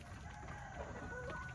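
A backyard rooster called Mike gives a faint, distant crow with soft clucking around it, heard alone against a quiet outdoor background.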